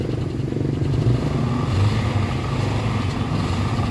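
A Toyota Avanza engine with a heavy black-smoke fault revs steadily up close, a dense low rumble holding at a constant loud level for about four seconds.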